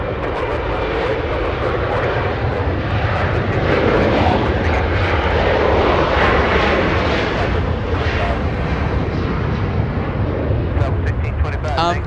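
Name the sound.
Singapore Airlines airliner at Los Angeles International Airport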